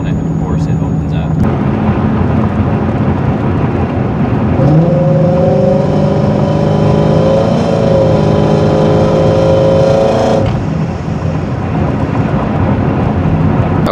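A Vortech JT supercharged 2015 Ford Mustang GT running E85 revs loudly and up close, its engine note climbing and holding for several seconds before dropping back to a steady, rumbling idle.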